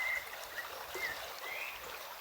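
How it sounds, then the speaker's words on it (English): Steady broadband hiss of flowing stream water outdoors on a hot, hazy day, with faint high bird or frog calls scattered over the continuous wash. "water sound"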